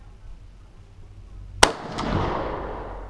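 A single sharp Mosin Nagant rifle shot cracks out loud and close in live fire, its report rolling away in a long fading echo after a quiet lead-in.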